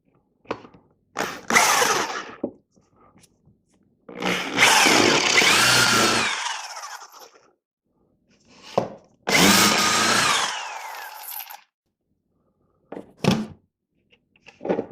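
A power tool squares up a wooden pen blank for a bolt action pen in bursts: two long loud runs of cutting with shorter taps and knocks between them, close up with no talk.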